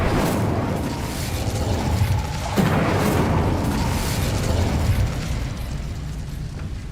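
An Incendio fire spell cast in the Hogwarts Legacy video game gives a sustained, loud roaring blast with a sharper burst about midway, and no voices over it.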